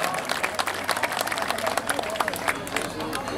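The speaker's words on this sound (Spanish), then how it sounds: "Fuertísimo, fuertísimo los aplausos" Loud, sustained applause from a crowd at a 62nd birthday celebration in San Marcos, Guerrero, dense clapping filling the whole stretch with a murmur of voices underneath.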